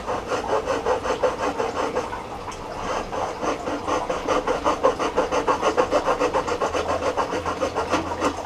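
Hand saw cutting through a wooden yarn bowl blank with a lid, steady rhythmic back-and-forth strokes, close and loud, pausing briefly before picking up a faster pace.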